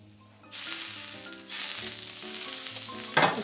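A tuna steak sears in a hot pan right after being flipped, bursting into loud, steady sizzling that swells again with each movement of the fish.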